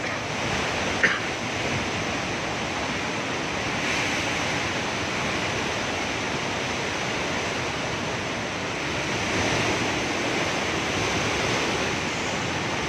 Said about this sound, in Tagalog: Yung bugso po ng hangin mula kanina.